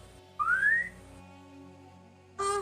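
A person whistles to call a companion, giving a single rising whistled note, then a second brief whistle near the end, over a soft, sustained musical drone.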